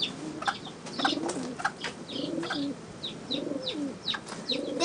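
A pigeon coos indoors in a repeated soft low murmur, with faint chirps and light fluttering around it and no talk.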